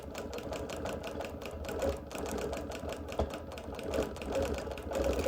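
A sewing machine stitches quilting around embroidery with a fast, even needle rattle, continuous and fairly quiet, running without pause for about five seconds.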